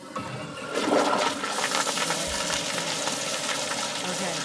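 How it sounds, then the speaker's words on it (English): A toilet flushes with a rushing, gushing swell of water that settles into a steady refill hiss, heard in a room. "Everybody hear the flush?"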